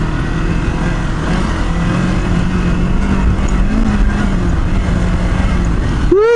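A Kawasaki Versys-X 300 motorcycle engine drones loud and close as the bike climbs hills off road, holding a steady, rough roar with a slight downshift change and no talking.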